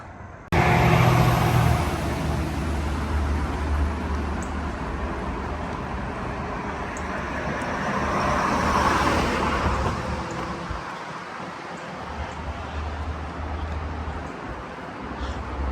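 Cars speed by on a three-lane highway near the Appalachian Trail on Shenandoah Mountain, a steady, loud roar of traffic that swells as vehicles pass close, then eases into a softer continuous rush.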